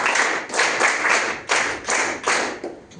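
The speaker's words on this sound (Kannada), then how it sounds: "ಕೊಡಿ ಒಂದು ಜೋರು ಚಪ್ಪಾಳೆ" An audience at a school event for Sri Rama school claps loudly in bursts: several swelling waves of applause with short dips between them, close and dense.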